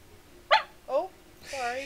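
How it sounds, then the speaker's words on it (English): A dog close by gives two quick barks, then a higher, drawn-out whining yelp. "Pardon the barking."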